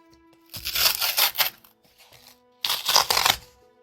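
Hands rip open paper mail packaging in two close bursts of crisp tearing and crinkling, with a quiet pause between them.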